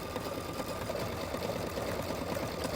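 A Luminaire embroidery machine stitching couched yarn letters, a steady rapid mechanical whirring and needle chatter, continuous and close, with no talking.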